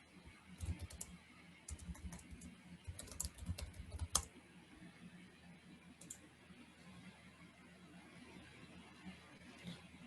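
Typing on a computer keyboard, with bursts of quiet close key clicks in quick clusters early on, then sparse taps against a faint room hiss.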